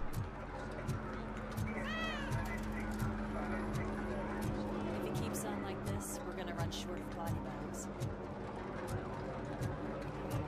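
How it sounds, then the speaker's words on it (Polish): Cats meowing in the video game RoboCop: Rogue City, a rising meow standing out over a rhythmic mechanical thumping and game ambience, with speech over the top. "Klasyczne koty."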